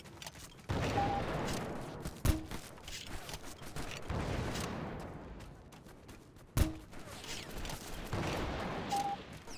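Gunfire from teammates in the video game Delta Force Xtreme crackles in sustained bursts, with two sharp louder shots standing out over a rumbling battle backdrop.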